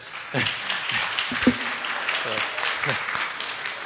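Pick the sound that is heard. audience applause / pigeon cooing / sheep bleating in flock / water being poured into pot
audience applause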